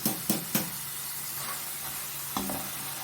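Potatoes frying in oil in a pan for a masala potato roast, a steady sizzle with a few sharp scrapes of the spoon near the start and another later on.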